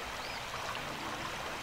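Running water ambience in a video game, a steady hissing stream flowing loud and close, unbroken for the whole short stretch with no voices.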